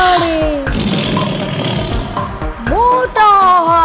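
A cartoon lion roars in a Hindi children's song, a loud growling roar mixed into the music, with sung vocals and melodic tones in the track.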